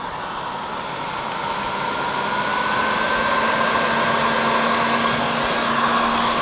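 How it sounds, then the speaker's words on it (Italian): Heat gun at around 350 degrees blowing hot air while stripping a small cabinet, a steady close whooshing roar with a faint motor whine rising slightly in pitch, alone with no talk. "io uso il phon termico perché ce l'ho"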